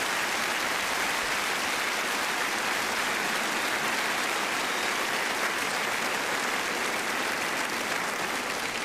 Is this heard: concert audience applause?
yes